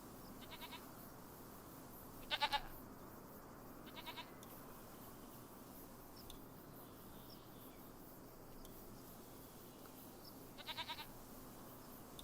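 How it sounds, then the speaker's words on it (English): Goats in a Farming Simulator 25 farmyard bleat in short, faint, repeated calls, spaced apart over a quiet background hum, with no talking. "Don't want to get too close to the goats."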